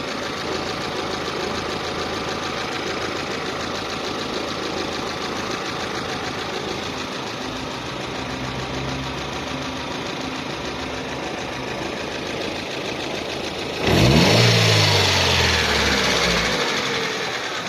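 A Daewoo Nexia 1 car engine with a shaking, poorly pulling motor runs in a steady, rattly idle. Near the end a sudden louder surge briefly swells the sound, then it settles back.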